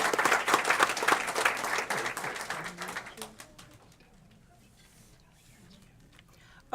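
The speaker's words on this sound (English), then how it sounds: "One more round of applause." A crowd at a board of education meeting claps loudly for about three seconds, then the applause thins out and fades to near quiet.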